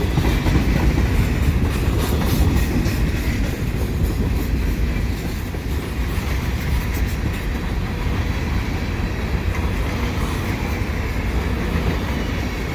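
A CP mixed freight intermodal train with Burlington Northern cars rolls steadily past close by, a continuous loud rumble of wheels and cars with faint rhythmic clacking throughout.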